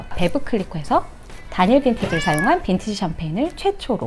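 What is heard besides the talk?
cat meowing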